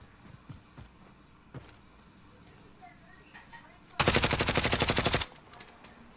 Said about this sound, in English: He's shooting at people I don't even see.